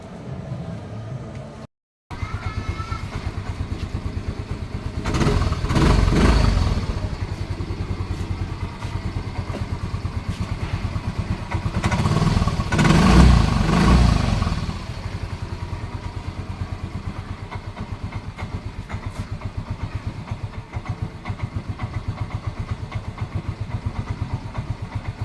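A Yamaha Mio i 125 scooter engine runs on a workbench during ignition coil troubleshooting, a steady mid-pitched idle with clattery texture after a brief silence, swelling louder in two revving bursts.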